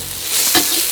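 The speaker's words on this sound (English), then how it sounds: "we have stir fried all of our vegetables, put a dash of pepper" Vegetables stir-frying in a wok at a Thai cooking school in Chiang Mai make a loud, close, steady hiss with a brief surge near the middle, lasting about a second, with no voices.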